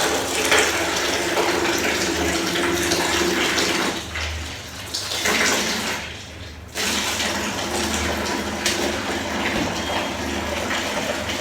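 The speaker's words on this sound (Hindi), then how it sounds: "थैंक गॉड मैं इसको हाथ से धो रही हूँ" Clothes are washed by hand in water, making a steady, close wash of sloshing and running water that dips briefly twice.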